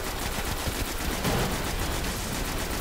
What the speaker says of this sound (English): It's like throwing grenades at me right now.